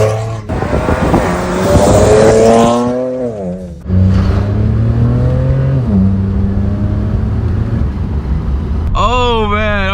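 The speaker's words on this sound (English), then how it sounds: "First drive with a new exhaust setup from VRSF." A BMW 335i with a new VRSF exhaust setup driving and revving, its engine note rising and falling in strong harmonic sweeps, loud and close from inside the car, with someone talking over it.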